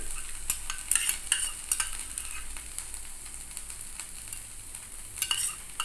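White and black mustard with green chili paste frying alongside ridge gourd in a pan, a soft steady sizzle broken by a few sharper scraping stirs, heard alone without talk.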